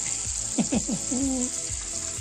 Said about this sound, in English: I'm making a burnt garlic butter